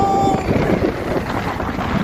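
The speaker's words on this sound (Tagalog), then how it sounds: "Grabe, mas mahangin na po ngayon." Strong wind buffets the microphone with a continuous low roar and rumble, loud and close, with no one talking.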